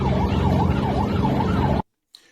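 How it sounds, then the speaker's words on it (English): Chinese Coast Guard vessel siren at sea, a loud wailing tone rising and falling in steady cycles, then cutting off abruptly near the end. "We hear the siren continuing to blare from the Chinese Coast Guard vessel as it now begins to move on by."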